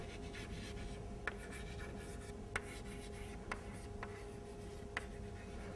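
Chalk or marker writing on a board during a math lecture on group theory, with soft scratchy strokes at a moderate distance and a few sharper taps as marks are made, heard alone against a quiet room hum.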